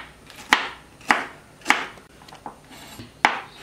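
Five crisp knife chops on a cutting board, roughly half a second apart, slicing banana peppers for a Sri Lankan Malay pickle, close and alone with no talk.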